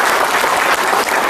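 An audience at a state-level award ceremony for a government employee breaks into loud, dense applause, a steady wash of many hands clapping close by with no pause.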